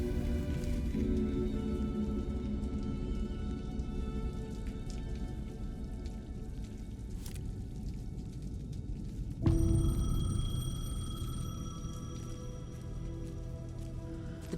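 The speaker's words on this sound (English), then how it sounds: "payphone was ringing." A payphone rings out in steady rain in Alan Wake, its bell cutting in loudly partway through over a continuous hiss of rain falling on surfaces nearby.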